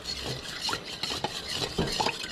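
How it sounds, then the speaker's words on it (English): A sauce with coconut sugar is whisked in a bowl for Thai basil chicken, quick rhythmic scraping and light metallic clicks close by, short and alone without speech. "Here it is. Coconut sugar. Yeah. Whisk that up."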